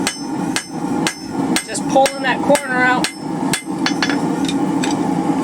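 Hammer blows forging the corner of a steel bar for a hanging hook, a quick irregular series of sharp ringing strikes close by, with a brief spoken remark between them.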